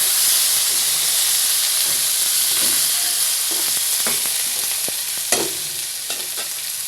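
Eggplant slices sizzle and hiss in hot oil in a pan, with a steady frying roar and intermittent scraping clicks of a spatula stirring them.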